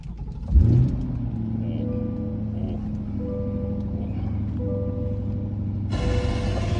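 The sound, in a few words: Corvette C8 engine starting up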